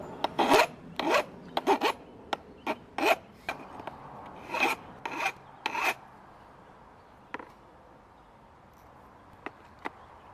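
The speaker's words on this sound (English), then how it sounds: "This one may need some little bit of chamfering." A thread file rasps at a damaged leading thread to chamfer it, in quick clusters of short strokes followed by a few isolated scrapes, close and fairly loud with no talk.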